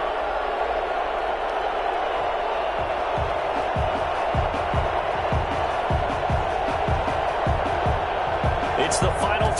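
A stadium crowd cheers and roars in a Madden NFL game before a Chicago Bears versus Minnesota Vikings matchup, a dense wash of noise punctuated by rhythmic clapping or stomping beats, with a commentator talking over it.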